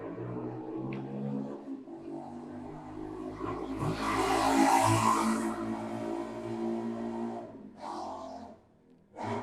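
A neighbour's motorbike passes outside, its engine note rising in the middle of the clip and then falling away, moderately loud over a steady hum, with no speech.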